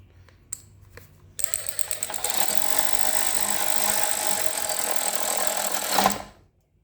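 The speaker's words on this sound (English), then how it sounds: "You're gonna want to tighten that bolt first." A steady mechanical rattling whir, likely a power tool driving bolts into a trash-picked lawnmower, runs for about five seconds after a few faint clicks and then stops, heard close with no talk.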